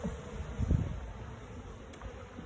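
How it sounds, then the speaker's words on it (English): Honey bees drone continuously inside an opened beehive, a steady close insect hum with a brief louder swell near the start and no voices. "So they're buzzing. They're telling each other. They're communicating."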